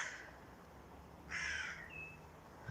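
A crow acting as lookout near its mate gives a couple of harsh caws, one faint at the start and a louder call in the middle, set against quiet outdoor ambience.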